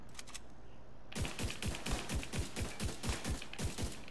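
Rapid gunshots in a video game raid, a fast, evenly spaced string of punchy shots starting about a second in and continuing to the end, close and loud with no talking.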